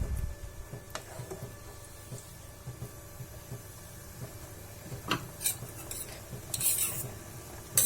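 Paneer stirred in a pan for shahi paneer brings soft repeated scraping and utensil knocks over a faint low sizzle, with a couple of sharper clinks later on and no talking.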